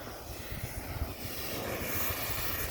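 A tractor rig running while it sprays pesticide across a field gives a continuous, fairly loud engine drone with a broad hissing spray wash and no pauses.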